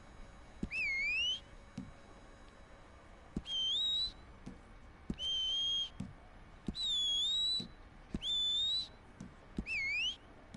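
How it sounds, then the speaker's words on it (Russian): Whistling sound effect in a video game menu, played as about six short rising two-note whistles spaced a second or two apart, clear and alone over a faint background hum with soft clicks. "тут еще можно свист."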